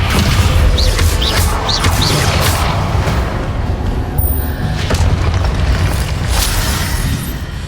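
The Confringo explosion spell goes off in Hogwarts Legacy as a loud, dense booming blast that rumbles continuously for several seconds, with sharp spell effects flickering over it and no talking.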